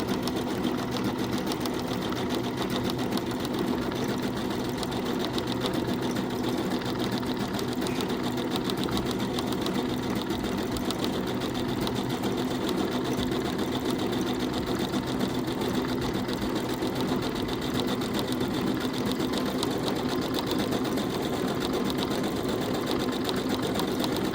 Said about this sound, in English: The next stitch I use is number 49 on my machine, which is a leaf.